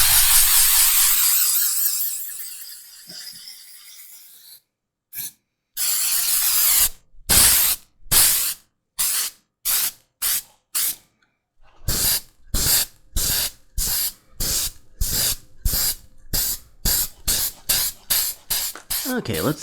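Leather Sheen spray finish is sprayed over antique stain on a leather sheath for a cleaver. One long hiss comes first, then a string of short, close bursts in a quick uneven rhythm with brief silences between them.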